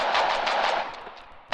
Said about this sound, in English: what you're hearing is the sound of the latest machine gun